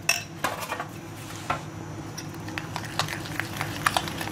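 Meat is turned in a sweet-and-salty marinade in a dish, giving soft irregular clinks and scrapes of utensil against the dish in a quiet restaurant kitchen.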